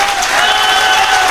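An audience at a motivational talk claps loudly and densely, a sustained burst of crowd applause with no pauses.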